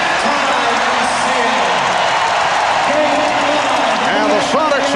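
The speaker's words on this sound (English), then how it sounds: "the Sonics are hearing it from the crowd" Arena crowd at a 1996 NBA Finals basketball game, Bulls versus Sonics, roars and boos at halftime as a loud, steady wash of voices with scattered cheers and whistles across the whole stretch.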